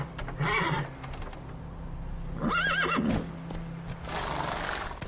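Roach, the horse in the video game Witcher 3, gives two clear neighs and whinnies, with hooves clip-clopping between them, close and fairly loud, and no talking.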